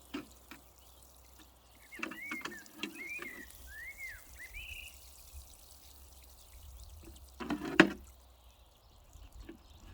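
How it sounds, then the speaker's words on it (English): Soaking water poured from a plant pot onto a newly planted tree outdoors, a soft intermittent splashing and trickling that peaks in one louder gush near the end, with faint bird chirps in the background. "I'm going to use it to recycle it and water the tree and turn fertilising it even more."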